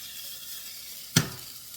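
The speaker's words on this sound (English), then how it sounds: "I have my broccoli here, just sauteing, just plain broccoli, salt and pepper" Plain broccoli seasoned with salt and pepper sautéing in a pan, with a low steady sizzle broken by one sharp clack of a utensil, no talk.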